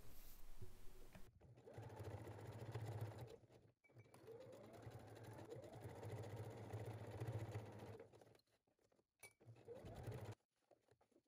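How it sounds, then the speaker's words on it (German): Sewing machine stitching fabric strips together for a crossbody bag runs in a few long steady bursts with short stops, close and fairly quiet, no voice over it. "Den Streifen unterm Nähfuß platzieren und mit einer Nahtzugabe von 1 cm aufeinander nähen"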